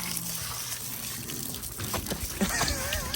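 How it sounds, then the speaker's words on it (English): Water spraying and gushing from a garden hose while a pet chases the stream, a continuous splashy hiss with sputtering bursts near the end and a person's voice briefly mixed in. "he loves chasing the hose"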